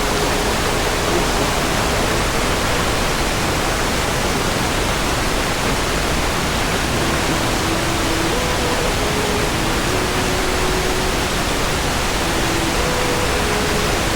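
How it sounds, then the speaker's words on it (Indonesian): Langga Duae waterfall in East Kutai pours in a dense, constant rushing roar that fills the whole stretch without pause, loud and close, with no voices. "Di sini aku memilih untuk duduk beberapa saat, mendengarkan suara air, rasakan angin yang berhembus dari arah air terjun"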